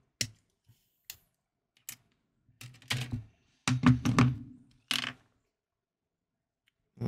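Sharp, dry snips of hobby clippers cutting a plastic Leagues of Votann Grimnyr model kit part from its sprue: a few isolated clicks, then denser clustered cuts and handling knocks, close and fairly loud, with silent gaps between.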